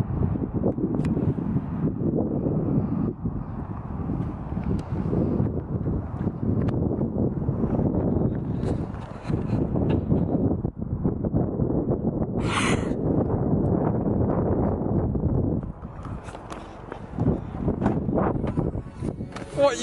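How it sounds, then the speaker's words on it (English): Strong, continuous cold wind buffets the microphone in heavy roaring gusts on a sunny day, with a brief lull near the end. "A bit cold and windy"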